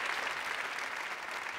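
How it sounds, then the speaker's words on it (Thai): A Thai game-show studio audience claps, a brief, steady burst of applause from a crowd with no voices over it. "อ่ะปรบมือหน่อยครับปรบมือหน่อย"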